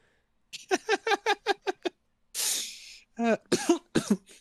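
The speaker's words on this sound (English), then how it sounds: "we both got coughs." A rapid burst of about seven short coughs, then a breathy throat-clearing rasp and several more harsh coughs, loud and close.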